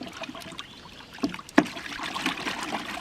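Sun-dyed fabric is rinsed in water, with soft sloshing and trickling, a couple of sharper splashes and handling noises, close and fairly quiet.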